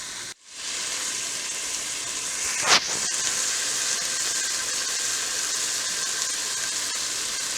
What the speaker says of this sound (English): Sweat out my onions and celery in a little olive oil